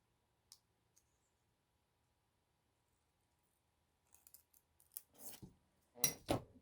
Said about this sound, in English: I think I'm just going to trim this up a little bit here